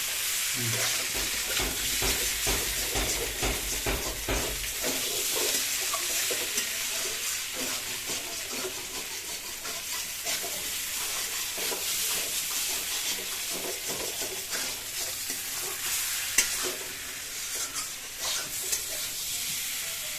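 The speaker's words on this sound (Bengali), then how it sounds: "লালচে ভাজা কষা মশলা দিয়ে কষা করবে" Potatoes fry in a pan with spice masala for kosha aloo dum, giving a continuous close sizzle. A spoon stirs and scrapes against the pan in repeated strokes throughout, with no speech.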